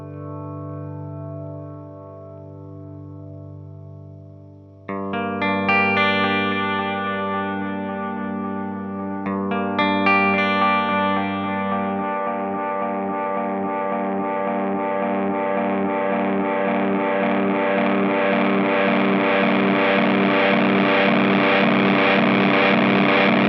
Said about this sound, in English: So as you can hear, we have our oscillation tone, and it's not completely clipping